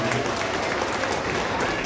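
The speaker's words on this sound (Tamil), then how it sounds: "இன்னும் சவுண்டாக கைத்தட்டணும் எல்லாருமே." Audience at a Tarangini dance school's salangai puja recital claps loudly and continuously, a dense wash of many hands with a faint murmur of crowd voices underneath.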